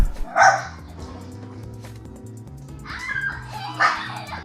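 A dog barks and yips in short bursts while breaking up two girls' play fight, the sharp calls standing out over a steady musical background.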